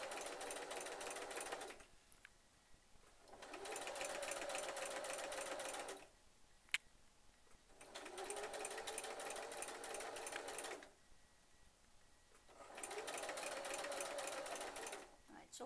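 A sewing machine stitches wire into a petticoat hem in three long bursts of rapid, even mechanical whirring, separated by short pauses.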